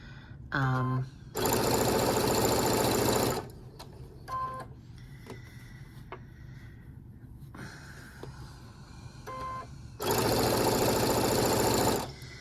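A sewing machine stitches cotton quilt fabric pieces in two loud, steady bursts of a couple of seconds each, close by. Quiet handling noises and brief hums fill the pause between them.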